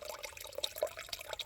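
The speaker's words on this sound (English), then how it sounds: "this is definitely a better water source. So filling up, taking 2 extra liters with me for tonight" Water runs into bottles at a trail water source on an Appalachian Trail section in Virginia, heard as a quiet, close trickle with scattered small drips over about a second and a half.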